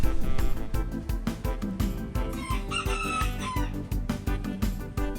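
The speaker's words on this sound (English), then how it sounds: "a very enterprising rooster who felt compelled to begin crowing about an hour before sunrise" A rooster crows once at a middle distance before sunrise in Sayulita, Mexico, heard over a busy background of rhythmic thumping and clatter.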